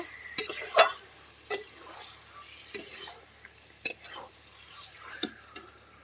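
Beef being fried and stirred in a pan for a spinach and potato curry, a quiet sizzle with sharp intermittent clacks and scrapes of a spoon against the pan, close and sparse, about eight distinct hits.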